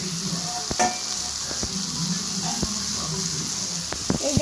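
Prawns and pumpkin cook in a pan with a steady close sizzle and hiss, broken by a few sharp utensil clicks and scrapes, while a voice talks faintly in the background.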